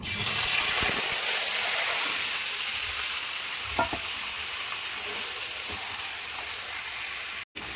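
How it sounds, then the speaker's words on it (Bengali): Marinated mutton hits a little hot mustard oil in a wok, giving a loud, steady sizzle and crackle that carries on alone through the whole stretch, with a brief dropout near the end. "কড়াইতে মটনটা দিয়ে দিচ্ছি।"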